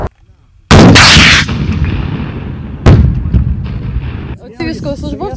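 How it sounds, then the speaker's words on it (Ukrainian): A grenade launcher fires during border guard training at an outdoor range. Two sharp, very loud blasts are heard several seconds apart, each followed by a rolling echo, and a voice talks faintly near the end. "Ці військовослужбовці стріляють з гранатомета перший раз."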